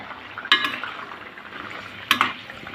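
Egg curry with bean seeds and whole green chillies cooking in a pan, with a steady low frying hiss and two sharp clinks of a spoon scraping and stirring, close and alone.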